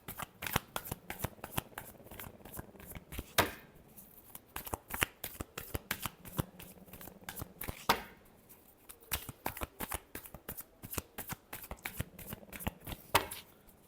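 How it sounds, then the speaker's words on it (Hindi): Tarot cards being shuffled by hand in a long run of rapid riffling flutters, repeated in several bursts with brief pauses, fairly close and clear with no talking. "last shuffle"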